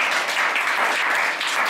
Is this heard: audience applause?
yes